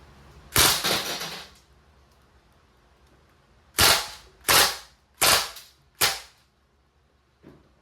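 A Crosman A4-P CO2 blowback airgun fires steel BBs: a short full-auto burst of rapid, sharp cracks, then four loud separate snapping shots about a second apart and a faint last pop.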